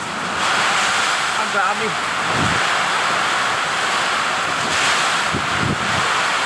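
Strong wind from Typhoon Ulysses roaring loudly and without a break, buffeting the microphone in heavy gusts, with a short spoken exclamation partway through.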